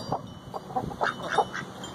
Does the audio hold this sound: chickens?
yes